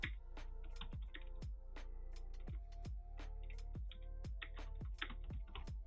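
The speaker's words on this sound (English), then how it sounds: "you gotta type" Fingers type on a computer keyboard in a quiet room, a close, steady run of crisp key clicks with occasional heavier thumps, with no talking.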